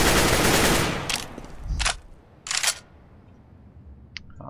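Bursts of M4 rifle fire in Counter-Strike: Global Offensive, two or three short sharp volleys of a few shots each, fairly loud, followed by quieter game ambience and a faint click near the end.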